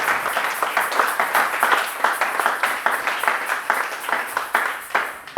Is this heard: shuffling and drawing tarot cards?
no